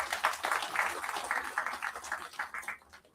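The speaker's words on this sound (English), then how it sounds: "Can we have a round of applause?" A round of applause from an audience at an energy industry summit, dense steady clapping that fills the room and fades near the end.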